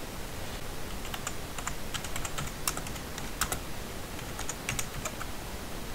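Rapid keyboard typing spells out text on a sign in a Minecraft survival game, a quick irregular run of light clicks with a few louder keystrokes, close and alone over faint background hiss.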